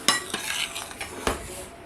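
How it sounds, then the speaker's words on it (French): A metal utensil taps and scrapes against the rim of a baking dish while tandoori chicken fillets are arranged in oil, giving a few sharp close clinks over a soft background. "j'avais dit que je tapais plus sur les rebords des plats"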